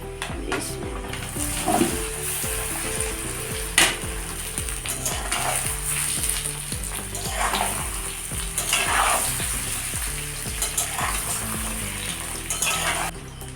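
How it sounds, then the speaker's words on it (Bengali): Mango pieces and garlic cloves frying in oil for a pickle give a steady close sizzle, with stirring scrapes and occasional clinks of a utensil against the pan throughout. "রসুনের কোয়াগুলো লাল হয়ে এসছে এবার আমি আমগুলোকে ঢেলে দেবো"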